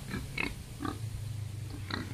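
Pigs on a pig farm give several short, close grunts and oinks in quick bursts over a steady low hum of farm background.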